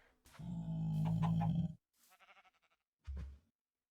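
A sheep bleats in a video game in a few short bursts: one long wavering bleat, a brief stuttering one, then a final short cry, close and clear.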